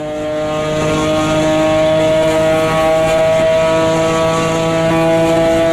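A race car engine in the Automobilista 2 racing game drones loudly and steadily, a rich buzzing tone holding near-constant pitch for several seconds before rising slightly, with no talk over it.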